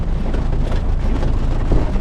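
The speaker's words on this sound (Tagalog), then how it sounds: "Lumakas yung ulan." Heavy rain pours down in a dense, loud, continuous hiss and patter, with no pauses over the short stretch.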